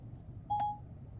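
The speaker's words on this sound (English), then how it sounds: "make and receive phone calls. Call Starbucks, Davis, California." A 2018 Honda Accord infotainment system places a phone call, giving one clear electronic dial tone of about a quarter second over low cabin hum.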